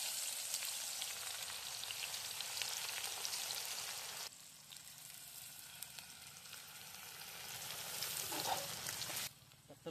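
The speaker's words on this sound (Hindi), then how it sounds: "तब तक इसको फ्राई करते हैं प्याज को" Onions frying in hot oil for rohu fish curry, a dense steady sizzle and hiss that drops abruptly midway then swells again, close and fairly faint, with occasional stirring sounds.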